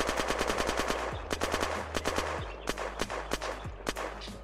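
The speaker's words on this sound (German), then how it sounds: "Jetzt nehmen wir uns die Subeknakov, packen da das Magazin rein und machen jetzt auf die auch 26 Schuss raus." Rapid automatic gunfire from a Subeknakov rifle in the game Unturned, a fast steady burst of about 26 shots fired one after another, loud and close with no talking.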